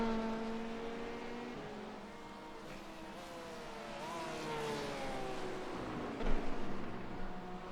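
A Porsche GT3 race car in an IMSA racing game revs through its gears with a climbing, shifting engine note, and a second car's engine is heard nearby before a brief louder burst near the end.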